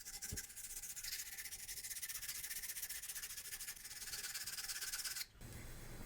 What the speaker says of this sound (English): I'm gonna come in with some 1000 grit and clean up right here